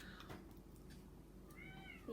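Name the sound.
cat meowing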